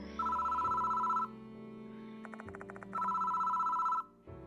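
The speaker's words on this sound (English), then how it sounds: "Why is the phone ringing?" A telephone rings in the horror video game Spirit Hunter: Death Mark, two long electronic ring bursts separated by a short pause and a brief rattling trill, clear and alone.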